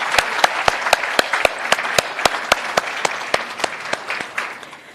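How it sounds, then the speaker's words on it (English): An audience at a merit awards ceremony gives a round of applause. Sharp, distinct claps sound in a quick regular rhythm over a softer bed of clapping, and the applause thins out toward the end. "Can I also ask you that we give a special round of applause to Emma for joining us today?"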